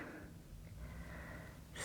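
Soft, steady breathing while holding a reclined yoga twist, a faint continuous airy rush that swells slightly at the end.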